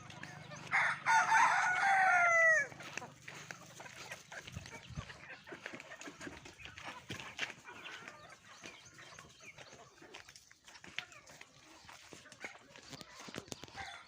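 Village chickens being treated for fowl pox: a rooster crows loudly and close at the start, then hens cluck and shuffle in scattered bursts for the rest.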